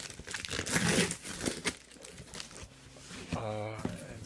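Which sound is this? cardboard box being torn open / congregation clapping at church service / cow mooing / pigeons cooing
cardboard box being torn open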